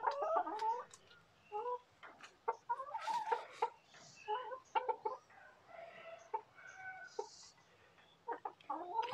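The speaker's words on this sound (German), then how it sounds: "wie ihr sehen könnt, fühlen sich die Hühner sehr wohl" A flock of chickens in a coop in Thailand clucks and chatters close by, irregular bursts of squawks and murmured clucks overlapping one another, with no talking.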